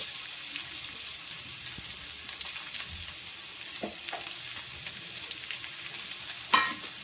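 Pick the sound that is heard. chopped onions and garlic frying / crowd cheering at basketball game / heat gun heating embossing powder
chopped onions and garlic frying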